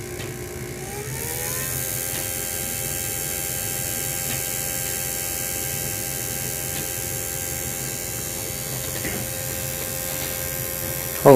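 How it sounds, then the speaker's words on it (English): An Xbox One disc drive whirs loudly and steadily while installing a game, a constant motor drone with a rising pitch near the start and a few faint clicks. "Oh, the drive's kind of loud though."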